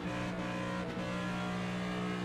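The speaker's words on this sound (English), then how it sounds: "listen to that throttle control on the bottom lane." Steady, loud NASCAR race car engine drone in the NASCAR 25 video game, held at high revs with a slight throttle dip midway, continuous and close, no voices.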